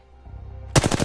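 A rapid burst of automatic gunfire from a weapon in a shooting video game, loud and close, with distinct rattling shots after a brief quiet lead-in.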